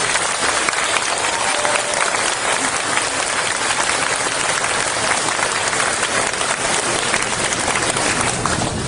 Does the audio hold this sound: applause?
yes